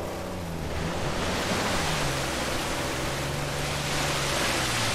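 Waterfall in Uncharted 4, a steady broad roar of rushing water that swells slightly and holds at moderate loudness throughout, with no voices.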